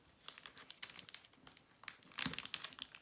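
Sticky adhesive backing being folded and pressed down on a handmade shaker card, soft crinkling and papery crackles with a brief louder rustle near the end, close and quiet, no voices.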